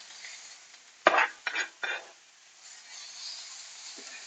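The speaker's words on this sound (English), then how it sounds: "So we're just going to move the onions around." Onions and garlic shifted around in an oiled pan, giving three short scraping stirs close up over a soft, steady sizzle that carries on quietly afterward.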